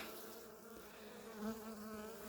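Honeybees buzzing steadily around an open hive as a caged queen from last year is released, a close, continuous drone with no talk.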